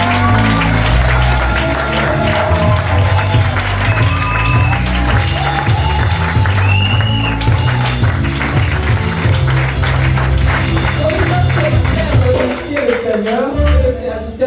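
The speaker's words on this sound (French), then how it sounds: "Acclamons Jésus." A church congregation at a special Mother's Day service claps and cheers for Jesus, loud, sustained applause with shouting and voices mixed in, fading near the end.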